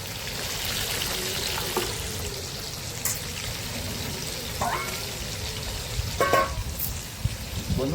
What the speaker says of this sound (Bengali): প্রথমে কড়াইয়ের মধ্যে তেলটা দিয়ে দেবো।